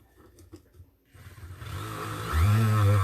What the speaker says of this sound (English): With the sander, you can't go too fast.